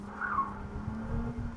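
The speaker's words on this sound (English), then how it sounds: "He just sent me a drift anyway in the DB7" Aston Martin DB7 with a V12 engine drifting, a sustained tire squeal over a low engine drone, heard at moderate distance and fairly faint, continuous throughout.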